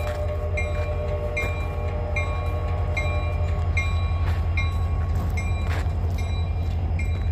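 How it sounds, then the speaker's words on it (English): A train rumbles past steadily and loudly, with repeated high metallic squeals and ringing tones from the wheels over the continuous low roar. "We got another friendly train, y'all."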